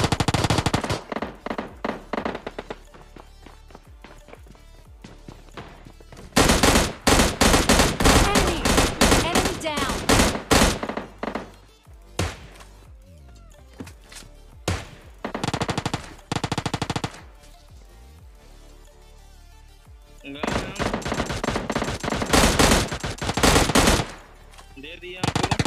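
M16 rifle gunfire in PUBG Mobile Lite rattles out in long, loud automatic bursts, several dense volleys separated by quieter gaps with game sounds, including a final sustained burst near the end.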